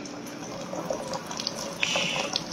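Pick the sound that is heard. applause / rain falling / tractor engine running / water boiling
water boiling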